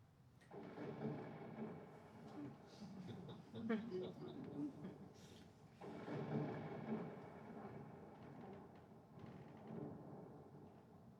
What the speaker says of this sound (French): Oh non, pas d'orage maintenant.